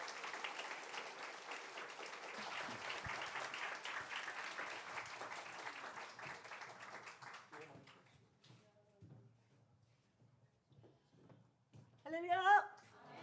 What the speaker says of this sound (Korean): 우리 가와이 목사님과 하야시 목사님 박수로 환영하겠습니다.